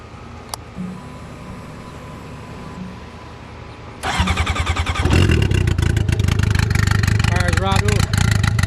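A turbocharged Honda Blackbird motorcycle cranks over and fires up, settling into a loud, lumpy idle with quick throttle blips after a quiet stretch of background hum.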